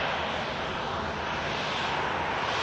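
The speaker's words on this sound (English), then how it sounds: "Ryanair arrives," A Ryanair airliner arriving at Manchester Airport, its steady broadband jet roar loud and continuous throughout, with no voices over it.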